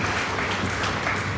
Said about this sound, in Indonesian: Tepuk tangan dulu yang paling meriah bagi.